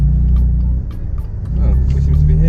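A BMW M4 engine rumbles steadily from inside the car while driving, with a brief dip in level partway through before the low drone swells back.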